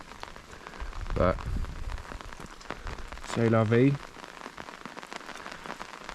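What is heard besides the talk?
rain falling on food forest garden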